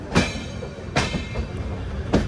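The Charminar Express runs on its rails with a steady rumble. Three sharp clacks from the wheels land at roughly one-second intervals.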